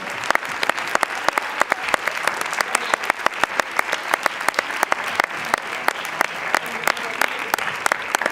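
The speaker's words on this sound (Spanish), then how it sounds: "un aplauso para estas estupendas bailarinas que hemos tenido aquí esta noche." An audience applauds dancers at a pole-dance show, a dense, even wash of clapping with sharp individual claps standing out, sustained throughout with no voices over it.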